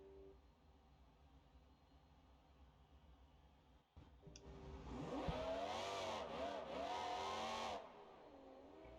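A V12 engine in a monster truck in BeamNG.drive climbs from a low idle into loud, sustained revving with rising and falling pitch sweeps, then drops off abruptly near the end.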